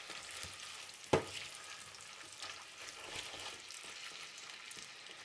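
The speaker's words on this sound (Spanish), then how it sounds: "Voy a moverlo bien para que se mezcle la carne." Ground meat frying in oil for spaghetti sauce, a steady close sizzle with a spoon clacking against the pan once and soft stirring scrapes throughout.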